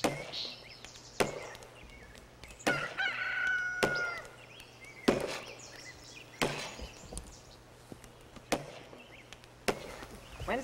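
Roosters crow at an old-style pioneer homestead in Manitoba, a faint crowing phrase rising in the middle, while sharp wooden chops ring out at regular intervals, close and loud, against a steady background hum.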